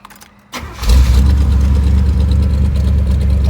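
A 1984 Chevrolet El Camino SS V8 with side pipes starts up: a brief cranking, then the engine catches into a loud, deep, steady idle that continues close by.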